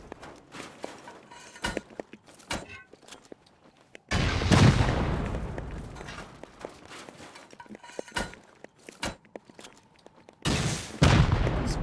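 Rockets hit a player base in Rust as two heavy booming blasts, the first around the middle and the second near the end. Between them come scattered thumps, clicks and footstep-like knocks in near silence.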